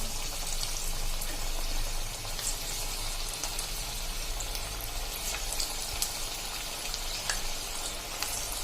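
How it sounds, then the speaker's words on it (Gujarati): Onion bhajiya frying in hot oil, a steady close sizzle and crackle with scattered sharper pops throughout, continuous and without talking. "જેટલા આવે એટલા આપણે તેલમાં મૂકી દેશું"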